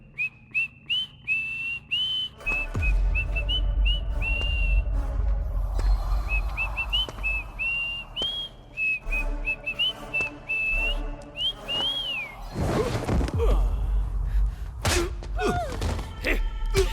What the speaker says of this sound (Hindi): अब तुम सीटी बजा के दिखाओ।